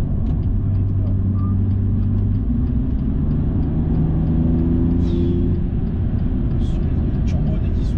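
A BMW M2 Competition rated at 410 hp and 550 Nm drones from inside the cabin while driving, a steady low engine rumble with rising tonal notes as it accelerates, and a voice speaks over it.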